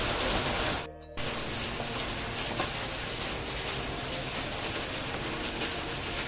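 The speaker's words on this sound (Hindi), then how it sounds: "बारिश बहुत ज़्यादा हो रही है रात से।" Heavy rain pours steadily through the night in a dark outdoor setting, a dense, continuous hiss that stays loud throughout, with a brief dip in the roar near the start.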